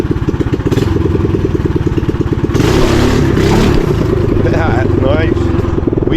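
A motorbike fitted with double reduction gearing idles with a close, pulsing chug, then roars louder as it accelerates hard for a wheelie and settles back, with someone talking over the engine.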